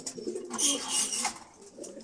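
Breeding pigeons in a loft give soft, low rolling coos in a couple of close bursts, with a faint airy rustle above them.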